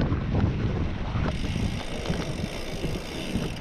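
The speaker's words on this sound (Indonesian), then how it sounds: "Oh, anginnya kencang sekali loh." Strong wind buffeting the microphone during an outdoor group bicycle ride, producing loud, rough low-frequency rumble that gusts and eases, with faint road noise beneath.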